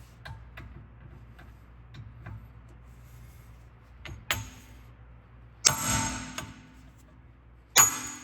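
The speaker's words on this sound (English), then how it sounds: "I'm just gonna hit the back right here with a hammer." Light metallic taps tick steadily, then three sharp ringing hammer strikes on the back of a VW Tiguan rear brake rotor, loud and close, spaced a second or two apart.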